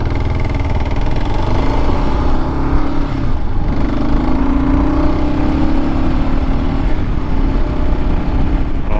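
A motorcycle carrying two riders cruises a coastal road on Prince Edward Island near Victoria by the Sea, its engine droning steadily and loudly throughout with constant wind and road noise.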